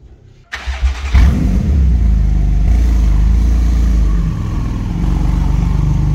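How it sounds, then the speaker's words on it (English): Porsche 911 GT2 RS cold-starting in the morning: a brief starter whir, then the engine catches with a loud flaring rev and settles into a high, steady, rumbling fast idle close by. "Absolutely loving the cold start of the GT2 RS in the morning"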